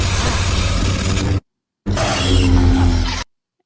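Lightsabers locked together give a sustained, loud crackling buzz with a low hum, run in two long bursts of roughly one and a half seconds each split by a brief silence, with no talking.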